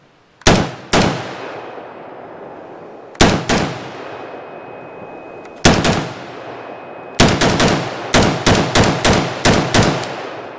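MKE AP53 pistol fitted with an HK53 brace firing outdoors: a loud double shot, two single shots, then a rapid string of about eight reports, each ringing out with a decaying echo.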